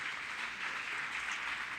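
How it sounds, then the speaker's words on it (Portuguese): Church congregation applauding during a sermon, a steady wash of clapping filling the room, moderately faint and continuous without pause. "Aplaude, fica de pé."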